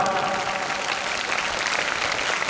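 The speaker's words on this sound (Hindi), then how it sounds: "एक बार जोरदार ताली बजाओ आप" Strong, sustained applause from a school seminar audience, dense and steady clapping with no pause throughout.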